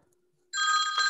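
A telephone rings loudly and suddenly in a quiet room during a watercolour painting session, its bright electronic trill starting abruptly and holding steady as a continuous ringing tone.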